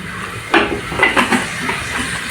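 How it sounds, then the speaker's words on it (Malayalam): A pressure cooker set onto a kitchen stove burner before making kalathappam gives a few close metallic clunks and clatters over a faint background hiss. "നമ്മളിതാ കുക്കർ അടുപ്പത്ത് വെച്ചിട്ടുണ്ട്"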